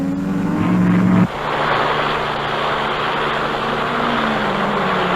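A 1950s racing car at the 1957 Sebring 12 Hours roars through the chicane, a loud sustained engine drone with a brief higher tone that drops sharply near the start, then a steady broadband roar.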